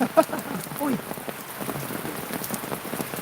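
Steady rain patters on surfaces outdoors, a dense continuous hiss of drops close by, with a faint voice briefly heard at the start.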